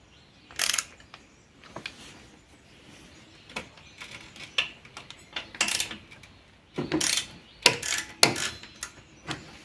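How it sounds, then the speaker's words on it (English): Ratchet wrench undoing nuts on an Alfa Romeo 33 1.5 boxer 8V engine, heard as a handful of sharp, close clicking and ratcheting bursts separated by quiet pauses, with no talk. "Undo the nuts."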